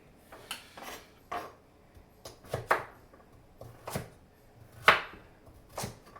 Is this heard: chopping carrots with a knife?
yes